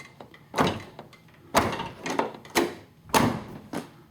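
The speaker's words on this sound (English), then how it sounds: "close the window again." A 1994–2004 Ford Mustang front window closes against the weather stripping, producing several separate dull thunks and rubbing movements about a second apart, close and moderately loud.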